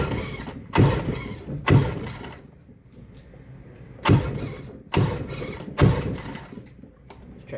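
The engine of a restored boat is cranked with the starter in about five loud, separate bursts, each a short churning whirr. Quieter pauses fall between the cranks, and the engine never catches.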